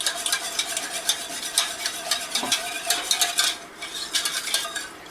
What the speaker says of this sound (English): I got the whisk.